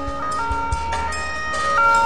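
Ambulance siren sounding as the vehicle arrives, a steady wailing tone over low road rumble, fairly loud and growing slightly stronger toward the end.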